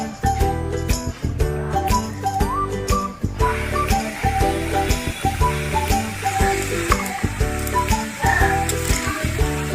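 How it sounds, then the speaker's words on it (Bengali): Nimki pastries deep-frying in hot oil give off a steady broadband sizzle that swells after the first few seconds, partly masked by louder tonal music playing throughout. "তেল গরম হয়ে গেছে, তেলের মধ্যে এখন নিমকিগুলোকে ছেড়ে দিচ্ছি"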